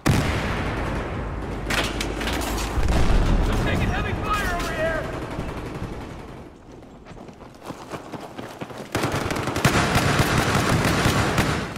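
Rapid laser gunfire from a Watch Dogs game trailer crackles in dense volleys under a continuous layer of music and effects, ending with an especially loud burst.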